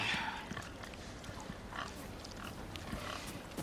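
A pig in Resident Evil 4 Remake grunts and oinks in several short, moderately loud bursts over a busy game soundscape, with no talk.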